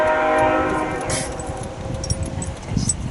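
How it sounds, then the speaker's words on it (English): A passing train sounds its horn in the opening second with layered steady tones that fade into a low outdoor rumble and scattered clatter, and no one speaks. "That's the train."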